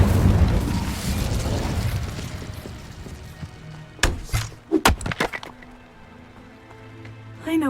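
An Incendio fire spell cast in Hogwarts Legacy, with a rush of flame followed by a cluster of sharp crackling bursts and thuds, moderately loud with nobody talking.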